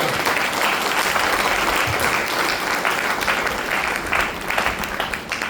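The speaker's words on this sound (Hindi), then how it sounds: "तो आप अपने लिए जोरदार तालियां बजाएं।" Loud, sustained audience applause at a motivational business seminar, a thick continuous roar of many hands clapping from a large crowd with no break.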